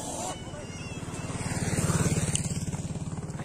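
A motorcycle engine thumps in a steady rhythmic idle, growing louder as it revs up nearby, then settling, as a group of bikes is started one by one.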